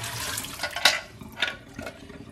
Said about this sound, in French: on va revider l'eau dans l'évier